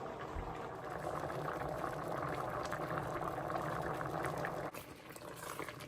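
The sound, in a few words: pot of noodles boiling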